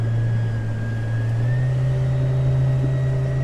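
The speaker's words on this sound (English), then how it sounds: "Gonna add a little throttle into the turn." A Suzuki 90 outboard motor on a 1998 Lund 1700 Pro Sport boat revs loudly through a tight turn, its steady drone climbing slightly in pitch as throttle is added, with no talk.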